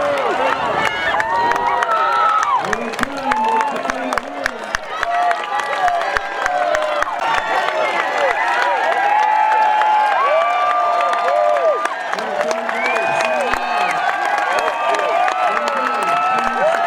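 Cheering and shouting from a crowd at a cardboard boat race in Belfast, a continuous lively roar with whoops and calls layered over one another, voices both near and far, steady across the whole stretch.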